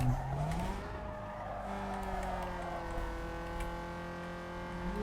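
A car in the racing game Need for Speed Underground 2 brakes and turns, its engine tone sliding and droning steadily with a brief tyre squeal near the start, loud and continuous throughout.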